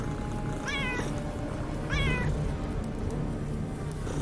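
Two clear cat meows in the game Underrail, about a second apart, sound over a loud, steady noisy background.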